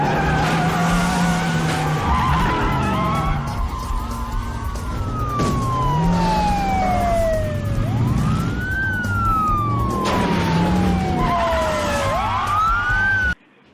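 Tires skid and screech loudly as cars race in a 1974 movie car chase, while a wailing police siren sweeps up and down throughout, engines roaring close by.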